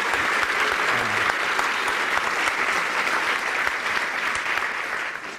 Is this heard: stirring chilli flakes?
no